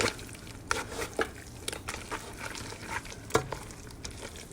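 Pasta is stirred through a creamy tomato sauce in a pan, making soft wet squishes and scraping strokes at an uneven pace. A faint sizzle runs underneath, close and quiet, with no talking.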